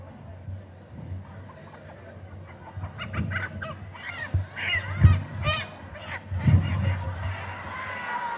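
A scrawny, featherless hen from a market gives loud, close squawking clucks in irregular bursts that grow busier toward the end, over a murmuring background.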